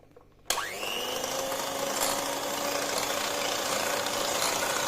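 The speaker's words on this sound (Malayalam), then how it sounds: "ഞാനൊന്ന് നന്നായിട്ട് ബീറ്റ് ചെയ്തിട്ട് വരാം കേട്ടോ" An electric mixer beats a sweet jackfruit cream dessert mixture, switching on sharply and then running as a steady, loud motor whine with a constant pitch and no talk.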